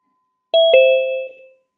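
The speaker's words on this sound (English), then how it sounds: "When you listen the bell, you slowly open your eyes." A meditation bell is struck twice in quick succession, each strike leaving a clear, pure ringing tone that fades out slowly over about a second in a quiet room.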